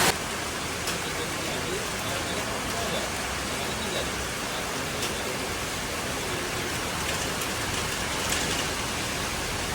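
Heavy rain pours down in a dense, loud, unbroken hiss that holds steady throughout, with no distinct individual drops.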